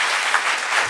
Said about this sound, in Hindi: जोरदार तालियां सिर्फ आपके टीचर्स